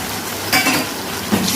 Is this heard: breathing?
no